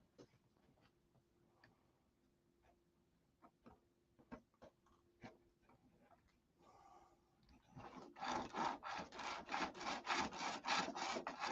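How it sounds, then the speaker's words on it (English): Sandpaper rubbed by hand over a repaired lead-out on a Aegis fishing rod, scattered faint scrapes and taps at first, then a loud, steady run of quick back-and-forth rasping strokes close by. "A little bit of sandpaper on there."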